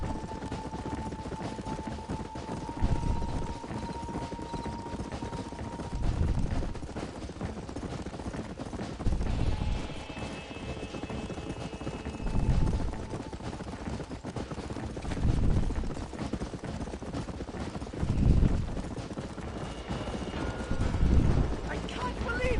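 Horse hooves gallop in the video game Red Dead Redemption, a regular rhythmic pounding that swells in repeated beats every few seconds over a soft mechanical game background, with no voices heard.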